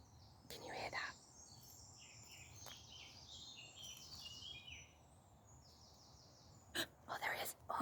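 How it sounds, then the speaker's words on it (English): Bird calls in a forest during a walk, bright chirps and short twittering phrases scattered over a quiet outdoor background, with close rustles and soft whispered talk. "It was a bird."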